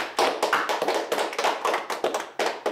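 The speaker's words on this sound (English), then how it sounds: "clap your hands." Several people in a group activity clap their hands together in a rapid, slightly ragged series of sharp claps, close and bright, continuing steadily for a few seconds without speech.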